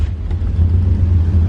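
The LS7 V8 of a 1969 Corvette restomod catches and settles into a deep, loud, close rumbling idle with a brief sharp start at the onset.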